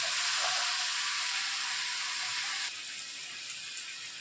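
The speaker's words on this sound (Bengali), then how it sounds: "তো জল দিয়ে দিচ্ছি আমি" Water poured into a pan of Bengali pumpkin and potato curry, a loud broad steady rush and hiss that drops to a quieter sizzle partway through.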